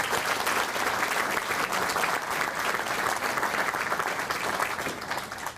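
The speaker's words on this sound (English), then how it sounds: "A round of applause." Steady, dense applause fills a banquet hall at a sports hall of fame induction dinner, many hands clapping continuously at moderate distance with no breaks.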